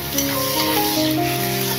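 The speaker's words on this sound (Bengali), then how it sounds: "পেঁয়াজটা ভাজা হচ্ছে" Onion frying and being stirred in a pan for a homemade chicken gravy, an even, continuous sizzle with a constant low hum beneath it, close and fairly loud, no voices.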